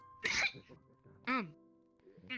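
Someone sneezes and coughs in a few sharp, explosive bursts spaced about a second apart, with a steady hum underneath.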